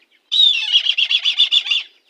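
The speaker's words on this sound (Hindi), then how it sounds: "अपनी चील को मैं इधर शिफ्ट कर रहा हूँ।" A pet kite, a bird of prey, being moved by hand, giving a burst of rapid wing flaps and rustling that starts suddenly, pulses for about a second and a half, then stops, loud and close.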